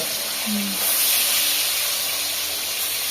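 Fish going into hot oil for a Bangla home-cooked meal in a village kitchen, a loud close hiss and sizzle that swells and holds steadily, with a brief voice at the start.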